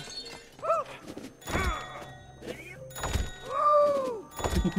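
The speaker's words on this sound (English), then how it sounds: "My fatness can break glass!" Glass shattering in the video game It Takes Two, a few sharp breaking crashes and thuds mixed among cartoonish character voices and game effects.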